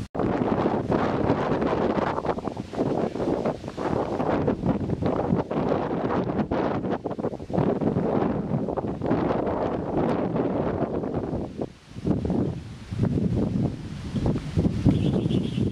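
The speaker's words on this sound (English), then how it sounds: "The wind's still gusting up to about 30 miles an hour" Strong tropical storm wind gusting at up to about 30 miles an hour, roaring and buffeting the microphone in a continuous loud rush with a brief lull near the end.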